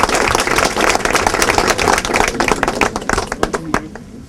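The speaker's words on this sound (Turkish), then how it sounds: "Evet, alkışlar ediyorlar." Loud, dense applause from an audience at a political party address in Turkey, sustained close clapping that grows more scattered toward the end.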